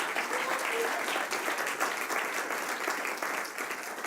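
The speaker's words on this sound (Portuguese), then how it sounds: "dê um aplauso forte para Jesus." A church congregation claps loudly for Jesus at an evening service, dense steady applause filling the room from start to finish with no voice over it.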